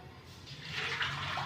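Water is poured into a cooking pot on a high gas flame while making tamarind chutney, a short, rising splashy rush that builds over about a second, with no talking.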